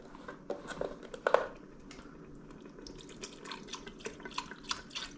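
Chicken broth poured into an Instant Pot, a soft liquid trickle with drips and small splashes that run on steadily and close by, with no voices.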